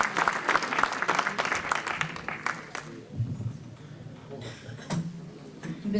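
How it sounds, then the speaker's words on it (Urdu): An audience at an annual award night in Los Angeles claps loudly for several seconds, then the applause thins out into scattered claps and faint room noise. "آج لاس اینجلس کے تمام لوگ جو یہاں موجود ہیں زوردار تالیاں بجا کر ان کا استقبال کر کے اس کردار کو نکھارا دیں"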